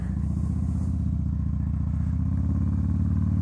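A motorcycle engine drones steadily up close while riding, its low throbbing exhaust and rumble continuous, with wind noise over the top.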